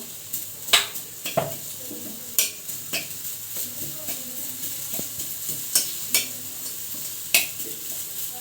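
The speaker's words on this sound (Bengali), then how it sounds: "এখন দিয়ে দিব আদাটা আদাটা দিয়ে একটু নাড়াচাড়া করে নেব" Ginger stir-fried in a pan makes a low sizzle, broken by repeated scraping and clinking strokes of a utensil against the pan at an uneven, unhurried rhythm.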